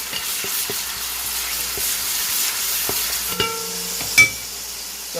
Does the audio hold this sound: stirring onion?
yes